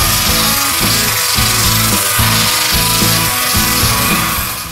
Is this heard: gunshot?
no